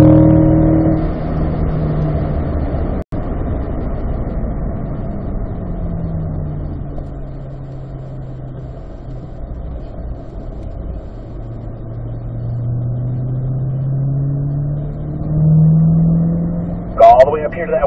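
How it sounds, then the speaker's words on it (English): Corvette C8 at a driving school track accelerating at full throttle, a loud engine drone rising in pitch under an instructor's continuous talk, with a brief gap and a sharper burst near the end. "Let's roll the full throttle. Push the gas pedal all the way to the ground"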